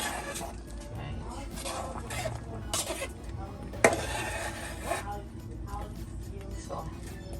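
Metal utensils stir and clink against a pot of Jamaican oxtail stew peas with dumplings, scattered scrapes and one sharp knock, while a person talks in the background.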